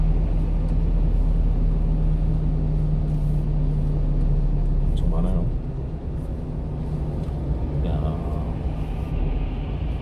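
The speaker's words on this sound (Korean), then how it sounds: "와, 차들이 엄청 많다." Heavy traffic on a busy road at a frequently icy stretch on a cold day, a continuous low rumble of many passing cars with a steady drone, heard from the roadside.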